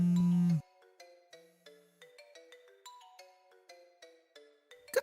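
A phone ringtone hidden inside a TV plays a bright electronic melody of quick plucked notes in an even rhythm. It follows a loud, sustained low buzz at the start and is heard alone, with no talking.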